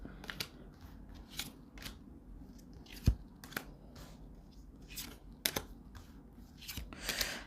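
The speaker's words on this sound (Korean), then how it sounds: "이렇게 펼쳐서 3장씩 뽑아보도록 하겠습니다." Tarot cards fanned out and drawn by hand: soft shuffling and sliding card sounds with a few sharp flicks and taps, quiet and close, with no talking.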